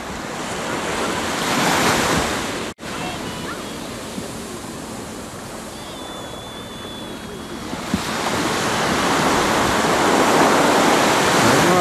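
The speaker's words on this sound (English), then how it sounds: "beach." Ocean surf rolling onto a beach, a steady broadband wash of breaking waves with wind buffeting the microphone, swelling louder toward the end, with no talk.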